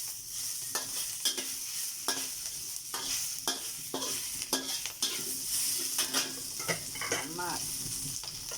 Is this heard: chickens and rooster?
no